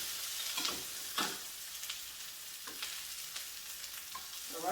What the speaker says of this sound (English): I'm letting that cook, that quesadilla